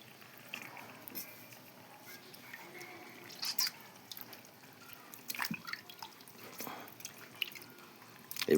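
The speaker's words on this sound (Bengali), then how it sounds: "এইভাবে মাংসগুলোকে ধুয়ে নিলাম" Water is handled while washing pieces of meat, producing faint, close drips, splashes and wet squishes in scattered bursts over a quiet background, with a louder splash at the end.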